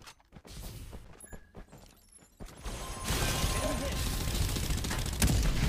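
Gunfire in the Farlight 84 battle royale: scattered sharp shots and mechanical clicks early on, then a dense, sustained burst of automatic fire and clattering impacts filling the last half.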